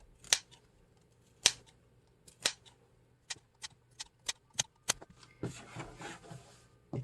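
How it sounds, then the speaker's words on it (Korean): Sharp scissor snips notching thin fabric sound close by, about a dozen crisp cuts at an irregular pace, followed by a brief rustle of fabric being handled. "오목한 곡선 쪽은 그냥 가위밥만 내시면 되는데요"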